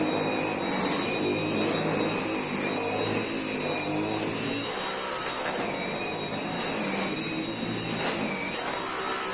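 A Dyson V8 Animal cordless vacuum cleaner runs on high suction with a loud, steady motor whine and airy rush, its pitch shifting slightly as it moves over a surface, with no speech.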